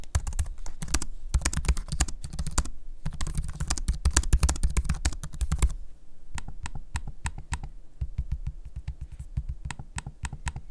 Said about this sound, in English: So I'm going to give you a quick sample here of the trackpad and the keyboard in use so you can hear how that sounds.